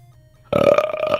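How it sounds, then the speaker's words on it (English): A single loud, close burp lasting under a second that breaks into near silence and trails off with a croaky rasp. "don't do that right after you burped"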